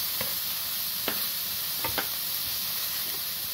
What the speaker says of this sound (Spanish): Vamos a echar la cebolla a sofreír un poquito.